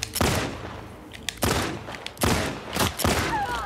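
Four sharp bursts of gunfire in the video game The Last of Us Part II ring out at roughly even intervals, each with a short echoing tail, loud and close with no talking.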